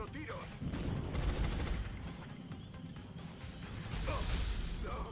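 An alien floater fires its weapon in XCOM Long War, a heavy burst of gunfire with a second crashing volley near the end, while someone talks over it.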